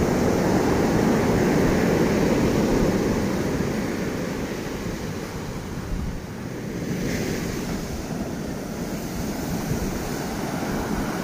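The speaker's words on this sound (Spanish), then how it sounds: "Ya me he fijado que son como 3 o 4 olas grandecitas" Strong ocean surf surging onto Playa Icacos beach, a loud continuous roar of breaking waves with wind buffeting the microphone, easing slightly midway.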